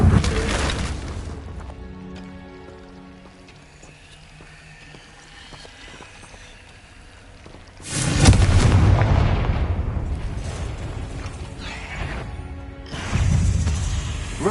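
The Incendio fire spell in Hogwarts Legacy on PS5 bursts out as loud whooshing blasts at two moments, standing out over quieter, rumbling game ambience.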